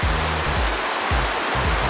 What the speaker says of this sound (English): The San Joaquin River.